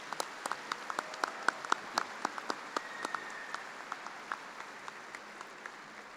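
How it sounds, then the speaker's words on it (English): A small commencement audience claps for the platform party at a spring business administration ceremony, with sparse, distinct claps ringing out in a steady, fairly quiet patter for several seconds. "Would you please join me in giving the platform party a round of applause?"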